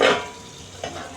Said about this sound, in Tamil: தக்காளி இதெல்லாம் கொஞ்சம் இது பண்ணுறதுக்கு கிண்டி விடணும்.